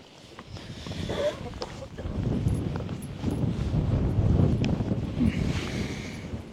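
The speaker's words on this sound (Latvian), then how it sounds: "Tas lielais vējš" Strong wind buffets the microphone at a lakeside fishing tournament, a dense low roar rising and falling throughout with faint water sounds beneath and no talk.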